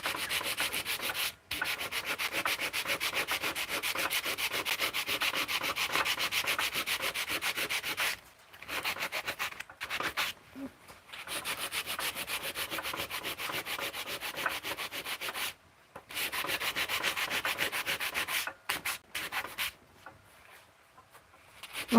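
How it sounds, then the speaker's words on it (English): A wooden piece is sanded by hand in long, rhythmic scratchy strokes, close and steady, broken by several short pauses before the rubbing resumes. "One of my favorite parts of sanding specifically is like if I am able to stay still and I lift up the piece"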